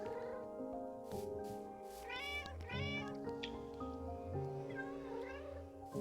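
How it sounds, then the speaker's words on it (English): Cats in Minecraft meowing repeatedly in a series of rising and falling calls over steady game music and background sound. "We're missing a kitty."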